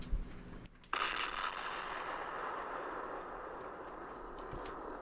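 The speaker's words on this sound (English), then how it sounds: "An explosion. Inside that room." An explosion of dynamite or nitroglycerin inside a room in a radio drama: a sudden loud blast bursts in after a brief gap, then a long roaring rumble of debris and noise that slowly settles without fading away.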